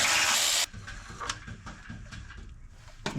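Ratchet working Subaru FA20 oil pan bolts, a loud burst of noise followed by a quick run of close, clicking ratchet strokes and metallic taps.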